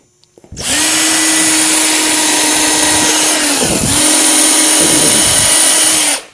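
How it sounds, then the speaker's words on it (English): A power drill whirs steadily at high speed, loud and close, with a brief dip partway through as it bores pilot holes into wood, then stops. "let's drill these pilot holes"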